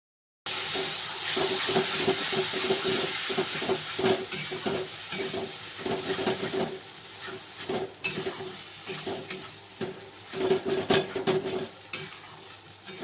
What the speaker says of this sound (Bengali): দিয়ে দিয়েছি মশলাটা, চলো এটাকে ভালো করে কষিয়ে নিই।